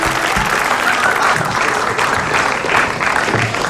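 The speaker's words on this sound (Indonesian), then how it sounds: "Tepuk tangan." A studio audience claps steadily throughout at an Indonesian comedy show, a dense even wash of applause with faint voices underneath.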